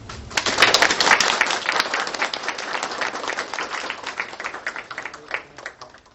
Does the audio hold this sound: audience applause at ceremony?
yes